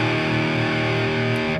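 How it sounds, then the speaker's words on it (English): An electric guitar plays through a heavily distorted amplifier tone, a thick sustained chord ringing loud and steady before cutting off abruptly at the end. "Distortion is this heavier tone that you hear me playing with."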